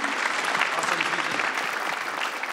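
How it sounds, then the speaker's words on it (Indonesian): Finalists applaud the comedians at the SUCI 6 stand-up comedy grand final, with dense, continuous clapping and crowd noise filling the room at a steady, loud level throughout. "Para finalis boleh tepuk tangan dulu untuk para komik ini."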